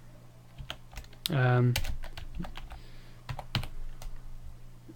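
Quick bursts of clicky keystrokes on a computer keyboard, close and sharp, interrupted by a brief speaking voice.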